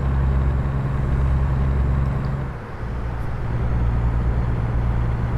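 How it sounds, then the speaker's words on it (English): A heavy truck engine in American Truck Simulator drones steadily and loudly, with a low rumble that dips briefly partway through before returning at full strength. "You're in a truck, so it's supposed to be loud, huh?"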